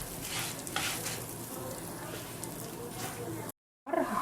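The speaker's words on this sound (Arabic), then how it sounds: "هفضل اقلب فيها كده علشان خاطر ما يبقاش حبايه مثلا محمره وحبايه لا" Tiny lisan al asfour pasta frying in a pan makes a steady sizzle, with soft scraping from stirring. A short dropout near the end interrupts it, and someone talks over the cooking.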